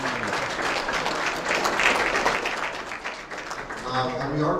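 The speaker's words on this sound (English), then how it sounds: "Give him a round of applause." A crowd's round of applause at a pool tournament, steady dense clapping that rises and falls slightly, with voices talking over and under it throughout.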